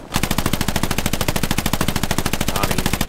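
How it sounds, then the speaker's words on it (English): Rapid, sustained tank machine-gun fire in the World War II shooter Hell Let Loose, a loud, evenly spaced stream of shots running without pause for about three seconds. "Tank is shredding me up."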